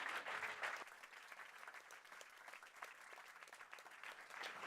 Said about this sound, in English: let's give Mo a big round of applause and welcome her up to the stage